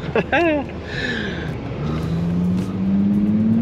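A voice speaks briefly, then a 2020 Toyota Supra's engine hums steadily underneath, its tone slowly climbing as the car accelerates.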